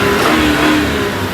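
A car engine revving hard during a burnout, close and loud, a sustained high-revving roar across the short moment with no talk over it.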